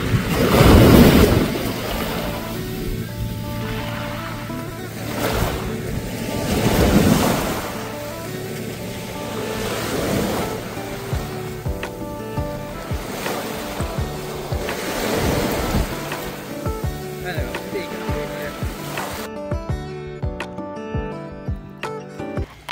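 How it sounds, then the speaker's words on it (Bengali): Lake water at Pangong Lake washing and surging in the wake of a passing Indian Army patrol steamer, with swells rolling in near the shore at about 1 and 7 seconds over steady wind buffeting the microphone. "আর্মিদের এই স্টিমারটা চলে যাওয়ার পর এখানকার এই লেকের জলের অবস্থাটা কেমন হয়েছিল দেখো"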